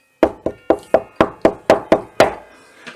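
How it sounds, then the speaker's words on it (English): Nine sharp knocks on a wooden door in a quick, steady rhythm, close and fairly loud, with a brief pause before the last one. "and then he heard the knocking again"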